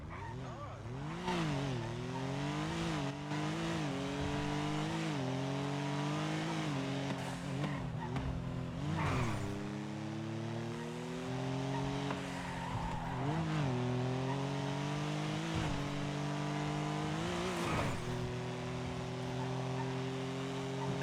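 A car in a video game drives continuously, its engine droning and repeatedly rising and dipping with gear shifts and throttle changes, with sharp bursts of impact or skid noise scattered throughout.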